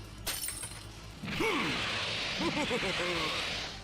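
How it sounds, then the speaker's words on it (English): A wine glass smashing on the ground in an anime, heard as one sharp crash followed by a sustained bright spray of tinkling fragments, with dramatic tonal music swelling underneath. "leaving the sturdy glass to tap along the edge of the ice mountain before finally smashing on the ground into a wave of glass particles"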